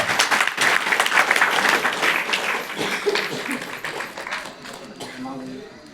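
Applause from the audience at the closing thanks of a final-day devotional pilgrimage walk at a holy site: dense, loud clapping from a large crowd that swells and then slowly fades, with a voice speaking over it.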